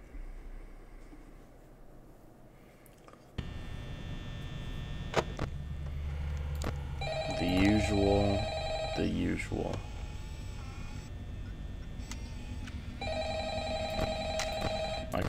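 A telephone rings in bursts of repeated electronic trills in the horror game Five Nights at Freddy's, over a steady low hum with speech around it.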